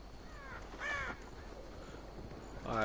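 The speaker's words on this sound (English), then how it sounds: "I hit the bird." A crow caws in Assassin's Creed Valhalla after being struck, giving a few harsh, quiet calls spread across the moment, with the last caw the strongest, over faint game ambience.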